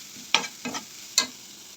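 Ingredients for horse gram thoran being sautéed in a pan, three distinct scraping stir strokes over a soft steady sizzle, close and clear, with no voices.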